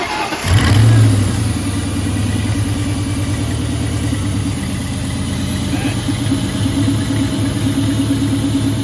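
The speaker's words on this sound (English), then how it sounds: "Starting it up for the first time." A Cobra car engine fitted with a newly installed 2.3 Whipple supercharger cranks and fires up for the first time, a loud low rumble settling into a steady, throbbing idle that runs close and continuous with no talk.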